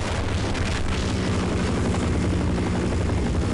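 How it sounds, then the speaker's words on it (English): Helicopter in the Half-Life video game, its rotor chop and engine roar loud and steady throughout, close and dense with low rumble and no voices. "I don't know how to take care of that helicopter"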